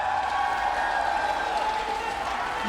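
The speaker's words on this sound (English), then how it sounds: "there's mad love going on for Deathwalker here in the crowd" An esports arena crowd at a SMITE world championship match keeps up continuous applause and cheering, a dense steady roar with a voice speaking over it.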